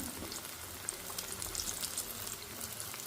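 Garelu, lentil vadas, frying in hot oil, a dense continuous crackling sizzle with fine popping bubbles, close and steady throughout, no voices.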